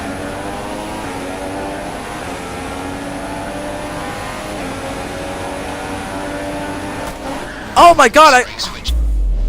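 A Formula 1 car crash in the F1 2016 racing game: a steady engine drone runs under talk, then a burst of sharp, loud collision impacts near the end, followed by a low thud, with a voice exclaiming over it.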